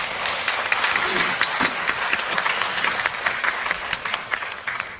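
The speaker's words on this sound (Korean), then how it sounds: "다시 한번 뜨거운 박수 부탁드립니다." An audience at a lecture hall in Seoul applauds after a special lecture by sociologist Ulrich Beck, a steady wash of many hands clapping for several seconds.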